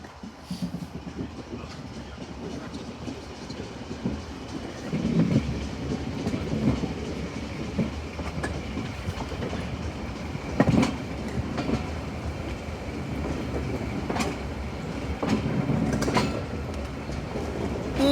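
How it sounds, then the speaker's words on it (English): A diesel heritage train leaves Totnes on the South Devon Railway, rolling steadily along the rails with a continuous rumble and rhythmic clickety-clack of wheels over joints, occasional sharper clanks rising above the run. "Here we are leaving Totnes South Devon Railway Station"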